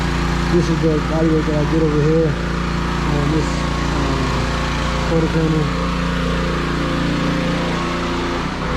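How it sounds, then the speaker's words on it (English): Car wash machinery running nearby, a steady loud mechanical drone that persists under someone talking close up about body work on a car. "Sorry about that noise from car wash over there."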